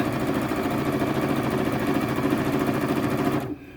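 A sewing machine stitching steadily around the edge of a kitten quilt, a fast even mechanical rattle running loud and close before it stops abruptly near the end.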